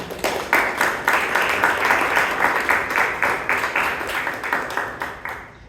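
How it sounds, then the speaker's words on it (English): Toastmasters club members give a big round of applause to the meeting's role takers, a close, steady burst of clapping that holds for several seconds and tapers off at the end. "Can we have a big round of applause for everyone?"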